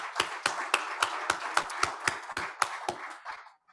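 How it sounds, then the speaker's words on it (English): A small event audience gives sponsors a brief round of clapping. It comes as sparse, distinct hand claps at a steady rhythm from a few people, close and moderate in level, thinning out toward the end. "We have a quick round of applause for the sponsors."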